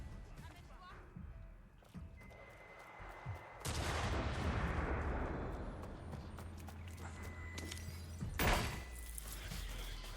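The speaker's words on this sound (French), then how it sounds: "En fait, c'est un pistolet qui est très fort, mais qui a qu'une balle dans le chargeur." Gunfire from a very powerful single-bullet pistol in the video game Watch Dogs Legion, heavy bursts and a loud sharp report standing out over a busy, noisy game soundscape.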